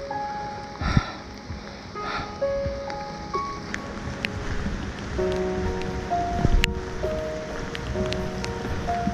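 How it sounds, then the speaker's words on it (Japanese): Heavy rain falls at a mountain trailhead on a September hike along Kassen ridge, a steady dense hiss that runs throughout beneath soft melodic background music. "かなり雨が強い、台風並みとまではいかないけど"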